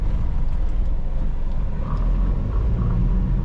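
A 2013 Perodua Viva 1.0 Elite with automatic gearbox runs with its engine on, giving a steady low rumble, close and continuous throughout.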